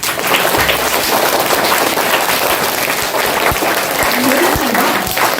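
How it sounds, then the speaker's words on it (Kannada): Schoolchildren at a primary school event in Mysuru applaud loudly, a dense, sustained burst of many hands clapping close by with sharp individual claps standing out. "ನೀವೆಲ್ಲ ಬಹಳ ಜಾನರು ಜೋರಾಗಿ ಚಪ್ಪಾಳೆ ತರಬೇಕು ನೀವು"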